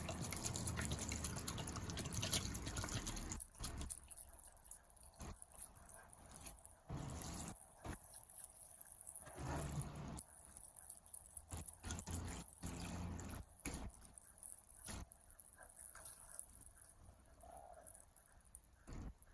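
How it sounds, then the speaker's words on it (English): Wine poured steadily over fruit for a Jamaican Christmas cake, a continuous close liquid stream with gurgling, breaking into short pauses and dribbles toward the end; no talking. "So now I'm going to add the wine."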